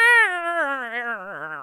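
A human voice imitates a cat's very sad meow, one drawn-out, wavering, descending whine close to the mic.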